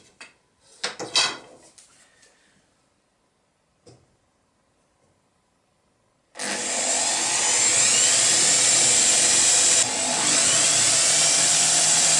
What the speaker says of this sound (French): Et maintenant on va faire 3 trous pour les vis de fixation.